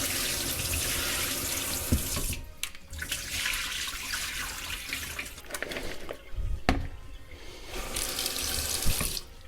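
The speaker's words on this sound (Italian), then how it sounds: "E le lasciamo qua nell'acqua corrente per una ventina di minuti" Cold tap water runs steadily into a sink over potatoes being rinsed to wash off starch, a continuous loud splashing stream with brief shifts and dips as the potatoes are turned.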